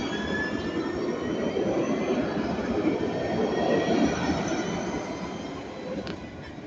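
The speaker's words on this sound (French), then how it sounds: "Le tram de la Soleil part." A tram at Magnan pulls away from the stop with a steady, loud rumble of wheels and motors, faint squealing overtones running through it, continuous throughout with no voices.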